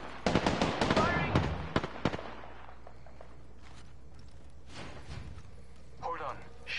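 Gunfire from an Apex Legends match: a burst of sharp, rapid shots up front for about two seconds, mixed with voices, then quieter scattered shots and game sounds later.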